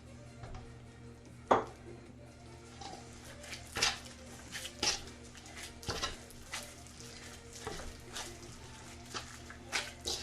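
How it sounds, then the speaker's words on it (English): Pumpkin being stirred into biscuit dough in a container, a series of soft clinks and scraping knocks from the utensil at irregular intervals over a low steady hum. "I'll mix up the pumpkin first with the dough"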